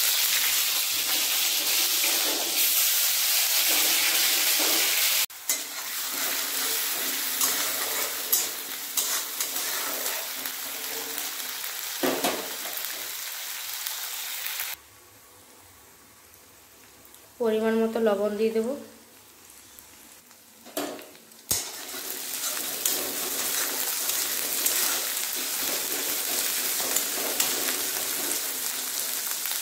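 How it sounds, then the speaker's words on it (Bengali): Onion paste frying in hot oil in a pan for a Bengali fried egg curry, a steady hissing sizzle that drops away midway and returns, with someone talking over it. "পেঁয়াজটা ভাজা হয়ে গেছে"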